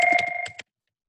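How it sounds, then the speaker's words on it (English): A phone rings with a short electronic trill, a bright steady tone pulsing a few times before cutting off abruptly, clear and close with no voices. "My phone is ringing."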